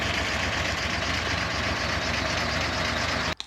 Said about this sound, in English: We've gone to four-wheel drive.